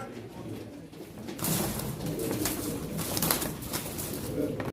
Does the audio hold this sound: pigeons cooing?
yes